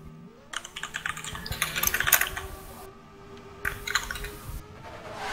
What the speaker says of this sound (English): That keyboard.